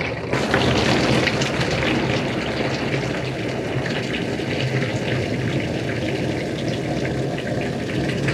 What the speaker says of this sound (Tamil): இப்போ நம்ம யூபிவிசியில் தண்ணி அடித்து சவுண்டு வருதா இல்லையா அப்படின்றத செக் பண்ண போகிறோம்.